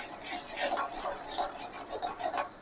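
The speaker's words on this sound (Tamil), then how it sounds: "உப்பு போட்டு நல்லா கிளறி விடுங்க." A spoon stirs salt into a boiling tamarind and garlic mixture in a pot, giving soft repeated scraping and clinking strokes at close range, fairly quiet, with no talking.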